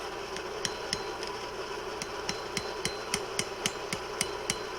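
Repeated hammer strikes on hot rebar over an anvil, forging tent stakes, ring out at an uneven pace, about a dozen sharp clanks over a steady background hum.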